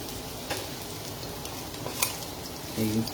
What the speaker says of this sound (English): We're going to let this saute for just about 30 seconds.